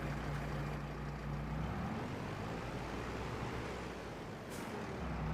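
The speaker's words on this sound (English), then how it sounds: "That Kenworth sounds nice." A Kenworth K100 truck engine in a video game gives a steady, dense roar with a low drone, holding constant and fairly loud throughout with no voices over it.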